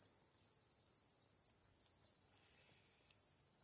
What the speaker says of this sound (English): There's another cricket.